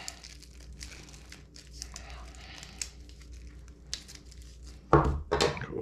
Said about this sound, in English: Cut a piece of tape.